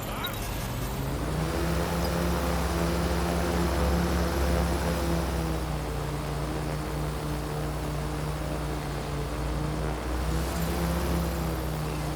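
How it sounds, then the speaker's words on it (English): A jet-engine drone flies in the video game Watch Dogs, giving a loud, steady whine and roar with a low droning hum that holds for about twelve seconds, slightly swelling at the start and again near the end. "That drone's got a fucking jet engine."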